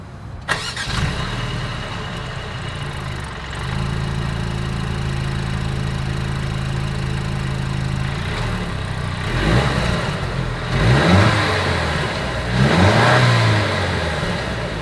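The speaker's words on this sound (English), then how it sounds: "As always, here is that exhaust clip." A 2023 Mercedes-Benz E 350 engine starts, settles into a steady idle, then its exhaust revs up twice in short bursts, loud and close with no talking.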